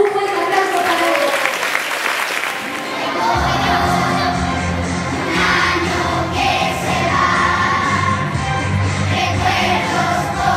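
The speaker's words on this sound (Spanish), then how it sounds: "¡Un fuerte aplauso para ellos!" A crowd of parents and children applauds at a primary school Christmas festival, loud clapping mixed with cheering and children's shouts, while music with a low bass line starts partway through.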